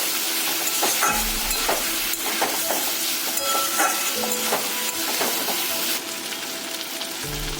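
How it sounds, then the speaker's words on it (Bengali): Prawns fry in a pan with a loud, continuous sizzle and crackle, broken by occasional light clinks; nobody speaks. "চিংড়ি মাছ ভাজা হয়ে গেছে ভালোভাবে"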